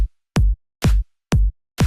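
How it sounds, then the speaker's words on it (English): Four loud electronic clap hits from a house drum sample without sidechain, each with a deep thump beneath a bright snap, evenly spaced and isolated. "This is the clap without the sidechain."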